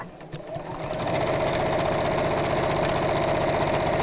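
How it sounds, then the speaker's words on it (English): A sewing machine runs steadily, stitching over marked lines on a woodland pouch bag, a continuous close mechanical whirr that starts softer and builds to an even, loud drone for several seconds with no talking. "So again, just sewing over the lines."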